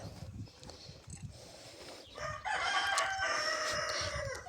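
A rooster crows close by in a village yard, one long loud cock-a-doodle-doo rising over quieter scattered clucking and rustling.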